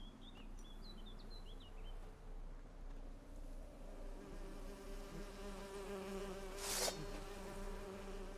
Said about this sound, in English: Or we get them bees?